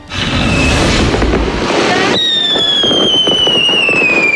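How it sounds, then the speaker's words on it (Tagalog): Loud New Year's firecrackers and fireworks burst continuously, with dense crackling explosions at first, then whistling rockets and popping bangs that carry on without pause. "Ang mga malalakas na ingay mula sa mga paputok tuwing sasalubungin ang bagong taon."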